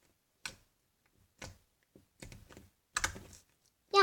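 Stretched slime gives five sharp, separate clicks spaced about half a second to a second apart, close up in an otherwise quiet room.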